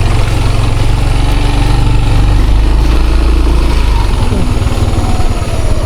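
A motorcycle engine idles loud and close in a steady low throb on a muddy track after rain, with an even rhythm running through the whole stretch.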